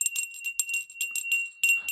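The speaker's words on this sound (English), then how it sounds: "I hear the bell this time." A small bell rings in a quick series of bright, jingling strikes with a steady high tone, fairly close and clear, with no talking over it.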